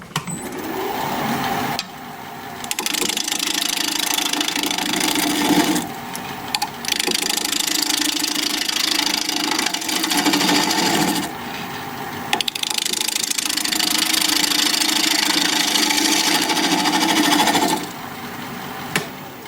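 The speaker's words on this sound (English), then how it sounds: "We're going to be turning at 800 RPM, 5/8 inch bowl gouge" A wood lathe turns a cherry bowl at 800 RPM while a 5/8 inch bowl gouge cuts it, a loud, steady whirring drone that runs in long bursts broken by brief pauses as the tool lifts off.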